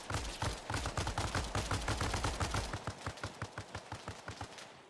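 Rapid automatic gunfire in Arma Reforger, a steady stream of sharp, loud shots for about three seconds, then slower, lighter bursts that continue to the end.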